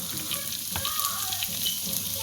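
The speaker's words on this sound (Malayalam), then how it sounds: "ഇതെല്ലാം കൂടി വഴറ്റിയെടുക്കാം." Onions sizzle steadily while being sautéed in a pan for carrot thoran, a continuous close frying hiss with faint scraping stirs running throughout.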